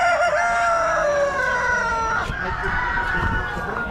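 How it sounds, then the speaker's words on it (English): Young Rhode Island Red roosters crow at an Amish spring animal auction, long harmonic calls overlapping and ringing out loudly over a busy, noisy barn background. "Looks like some young Rhode Island roosters."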